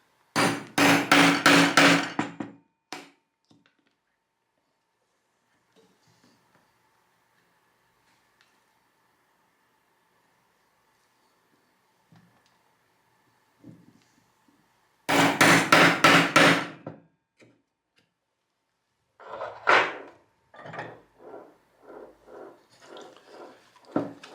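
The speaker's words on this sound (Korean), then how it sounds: "리벳으로 마감을 하겠습니다." Rivets being hammered into a holder case made from Daiso products, heard as two close, loud bursts of rapid metallic hammer blows separated by a long quiet gap, then a further run of evenly spaced strikes.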